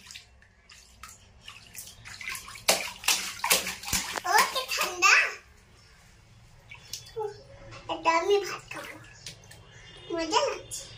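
Water splashes and sloshes in a swimming pool as children and adults play, with bursts of splashing near the mic between stretches of lively talk and a voice.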